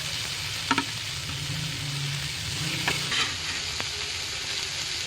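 Shredded cabbage fries in a pan with dried red chilli, turmeric and salt, giving off a steady close sizzle with a few soft stirring scrapes and taps, and no voices.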